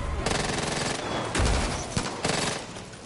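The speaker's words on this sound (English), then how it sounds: "Just keep firing." Rapid automatic gunfire in a video game, loud and close, with dense bursts of shots rattling continuously and a few heavier impacts mixed in, with no voices over it.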